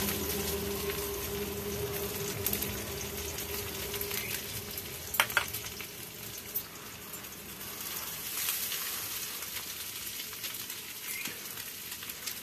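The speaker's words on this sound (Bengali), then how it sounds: "সয়াবিনগুলো ভেজে নিচ্ছি আগে" Soaked soybean chunks frying in a pan give a continuous soft sizzle and crackle, with a few sharp clinks of stirring near the middle, quiet and close with no talk.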